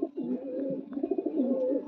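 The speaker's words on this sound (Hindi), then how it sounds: "ये देखें, ये कबूतरी है।" A long-feathered female pigeon coos nearby in a series of soft, throaty, rolling calls, fairly quiet and alone, with brief pauses between phrases.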